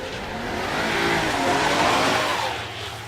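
A Rolls-Royce Ghost launching off the line at a drag strip, its engine revving loud and close in a rising, swelling roar that eases toward the end.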